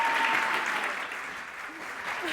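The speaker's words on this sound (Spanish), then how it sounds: "os voy a pedir un aplauso enorme para nuestra bióloga favorita de Río Tinto" Warm applause from a science-talk audience for a biologist, a steady wash of many hands clapping that eases slightly in volume, with a voice briefly audible beneath it.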